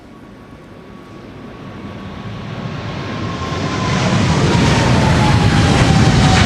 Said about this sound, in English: the PHBVA Orange Pride. Going to San Jose, 777-300.